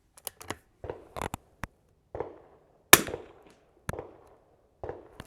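Sharp cracks from a Winchester 52C .22 rifle fired at a 100-yard range, with several short reports spaced irregularly over a few seconds, each with a brief dry tail, plus smaller clicks and clanks between shots.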